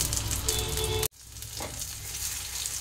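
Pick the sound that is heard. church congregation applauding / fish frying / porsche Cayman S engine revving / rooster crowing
fish frying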